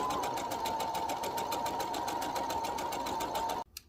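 A sewing machine stitching pillow fabric runs in a steady, fast, even whir of needle strokes for several seconds at close range, then stops abruptly near the end.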